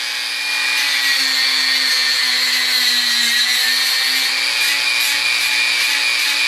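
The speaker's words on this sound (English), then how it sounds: "if you don't have one of these Dremel tools with this little guy," A Dremel rotary tool fitted with a small bit runs steadily at high speed while working on a gun stock, giving a loud, even whine that holds with almost no change from start to finish.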